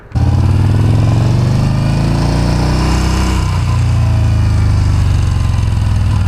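Engine of a 2014 Yamaha Bolt R Spec bobber cruiser motorcycle while riding, a loud steady low rumble holding throughout with a slight dip and rise in revs midway, no talking.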